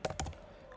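Two or three quick, close keystrokes clack on a computer keyboard, then a brief quiet tail.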